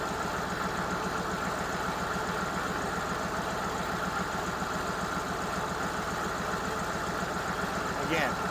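A CUCV 6.2 diesel engine idles steadily on the last of the fuel left in its injection pump, a rhythmic low knocking chug that runs on without a break, with a brief higher sound near the end.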